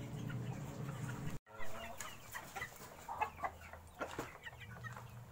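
Shamo heritage chicks and their mother hen clucking and peeping in a natural no-light brooder, a steady close chorus of soft clucks and chirps with a brief dropout partway through.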